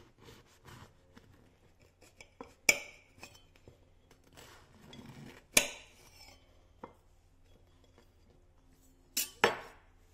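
A knife cuts through a solid damper loaf baked in an Easy Bake oven, with soft scraping between three sharp, clattering knocks against a board or dish.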